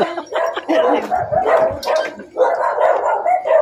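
Several dogs bark and yip loudly and repeatedly, overlapping in a busy outdoor chorus with voices mixed in.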